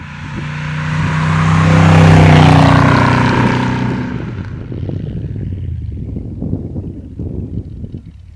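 A 1966 Iso Grifo 300 GL with a Chevy engine lugs up a 20% slope at about 1000 rpm, its low burbling rumble swelling loud and close, then settling into a rougher, quieter throb.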